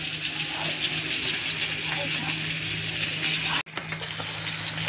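Semolina-coated pomfret fish sizzles steadily in a frying pan, a continuous close hiss with a brief sharp dropout near the end.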